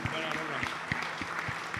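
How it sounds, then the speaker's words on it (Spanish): Church congregation clapping during Spanish-language worship, a short burst of rhythmic, fairly close hand claps in a steady beat, with a voice and music tones running underneath. "Denle un aplauso al Señor."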